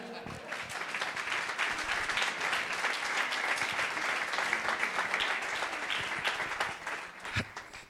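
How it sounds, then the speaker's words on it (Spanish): Audience at a Spanish-language book presentation applauds steadily for several seconds, a dense, even wash of clapping from a room full of people with voices mixed in. "Un aplauso a Elvira."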